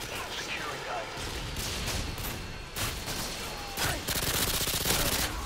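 Gunfire from the video game Call of Duty Modern Warfare 2 crackles in rapid bursts and volleys, loud and close, with a voice talking over the shooting.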